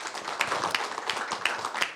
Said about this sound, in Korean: 우선 발제해 주신 우리 이득일 박사님께 큰 박수 부탁드리겠습니다.